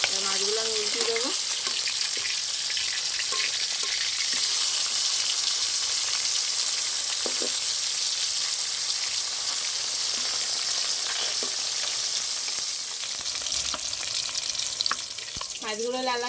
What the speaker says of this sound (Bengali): মাছগুলো লাল লাল করে ভাজা হয়ে গেছে